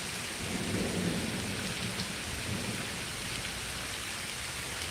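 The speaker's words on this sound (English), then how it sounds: "We're definitely gonna get like an inch of rain out of this, I'm sure. But also because it's not stopping." A heavy thunderstorm: dense, steady rain roaring on surfaces with a deep rumble of thunder rolling underneath early on, loud and continuous without any voices.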